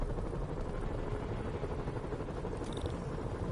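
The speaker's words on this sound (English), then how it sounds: "use those helicopters to swing." Helicopter in a Spider-Man video game, a steady low rotor rumble and whir that stays constant and moderately quiet, with no talk.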